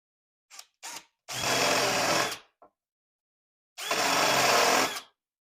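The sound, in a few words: drill countersinking screw holes in dust shroud plate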